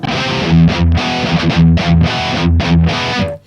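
High-gain distorted electric guitar through a Kemper Deadlight Studio amp profile plays short chugging chords and sustained riffs, loud and close with no talking.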